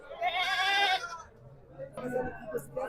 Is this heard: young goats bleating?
yes